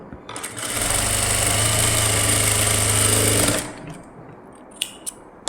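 A sewing machine stitches blouse lining in one continuous loud burst of rapid mechanical whirring and clatter, lasting about three seconds. It winds down, then a few light clicks follow.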